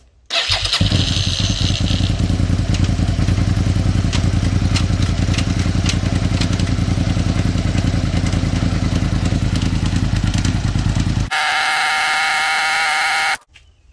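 A Suzuki SV650 engine runs loudly and steadily with its rear wheel spinning free and the chain removed. The drone holds for about eleven seconds, then gives way to a higher, tonal whine before stopping.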